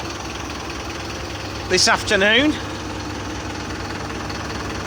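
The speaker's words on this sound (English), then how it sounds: "Thanks to the familiar sound of the Vario engine." Engine of a 2011 Mercedes-Benz Vario 0.816d minibus with Plaxton Cheetah coach body, a steady diesel drone running throughout near Thorpe Park, with a brief burst of speech over it midway.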